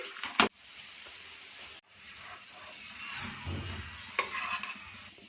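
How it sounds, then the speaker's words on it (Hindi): Soft sizzling of a roti frying in desi ghee on a hot tawa, a quiet continuous crackle with a few sharp clatters and brief pauses as it is handled. "दो खाने वाले चम्मच देसी घी डाल देंगे।"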